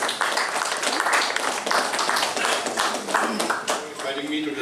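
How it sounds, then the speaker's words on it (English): Applause from an audience at the curtain raiser function for the second North East Olympic Games 2022, a dense, steady wash of many hands clapping for several seconds, with some voices mixed in. "Let's give a big round of applause and give them our blessings."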